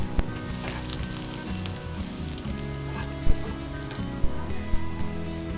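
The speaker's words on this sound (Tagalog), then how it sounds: "Yung bawang natin, medyo sunugin na natin ng konti" Garlic frying hard in a pan for Kapampangan buro, a dense crackling sizzle with popping spatters and a few louder knocks, close and steady with no talk.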